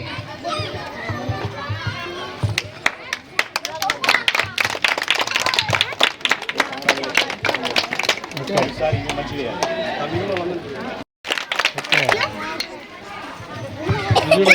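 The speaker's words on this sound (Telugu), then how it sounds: "క్లాప్స్ కొట్టండి" An audience at a prize-giving for a festive celebration at a poor family's home claps in bursts as winners go up, with children's voices and chatter mixed in and a brief gap near the end.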